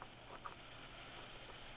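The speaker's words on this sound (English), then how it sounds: "Sorry if there's any background noise. It's raining." Rain falls steadily outdoors as a soft, continuous hiss in the background, with a couple of faint patters and no voices.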